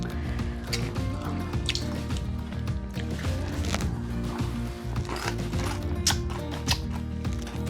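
Wet splashing and dripping with small slurping, clinking sounds, irregular and close, like someone eating a brothy dish.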